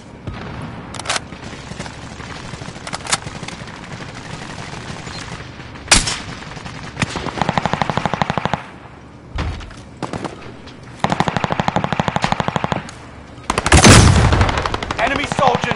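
Video game combat with bursts of machine gun fire and single gunshots, sharp and loud, arriving in irregular clusters with short pauses between volleys.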